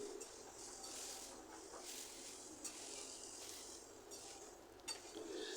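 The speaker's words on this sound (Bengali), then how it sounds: "আমি একটু মিশিয়ে নিচ্ছি।" Susni greens with garlic being stirred in a pan with a metal spatula, giving a steady low sizzle and soft scraping throughout, close by, with no talk.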